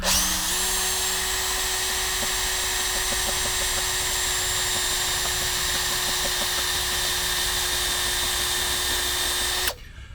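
A Makita power drill whirs steadily and loudly at a constant pitch for nearly the whole stretch while fitting a guyed 12 m radio tower with a rotator, then cuts off abruptly near the end.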